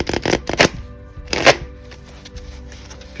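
A new Love deck from the Neo Rider collection is riffle shuffled up close, giving loud fluttering bursts of card riffles and bridging snaps in quick clusters, with quieter handling between them.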